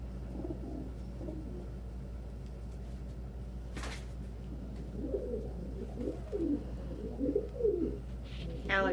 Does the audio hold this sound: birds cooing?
yes